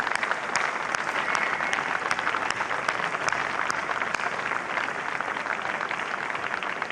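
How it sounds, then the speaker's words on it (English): A crowd gives a steady round of applause at a squash exhibition, dense clapping sustained evenly for several seconds with no talking over it. "So can we all please give him a round of applause?"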